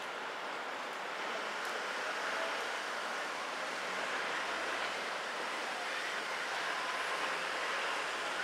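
A Tobu Tojo Line commuter train at weekday morning rush hour between Tokiwadai and Naka-Itabashi pulls in, making a steady, broad, close rumbling roar that holds evenly throughout with no voices.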